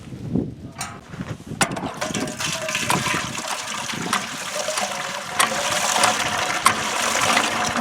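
Water pumped from a well rushes and gurgles into a tank, a constant splashing flow with mechanical rattling over it, heard up close.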